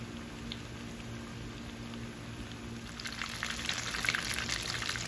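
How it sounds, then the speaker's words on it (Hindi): Lahori-style fish pieces fry in oil on low heat, giving a steady soft sizzle and crackle that grows denser and a bit louder toward the end, with no voices. "फ़िश को मैंने फ्राइंग के लिए रख दिया है और इसको मैं बिल्कुल हल्की आंच पे रखूँगी"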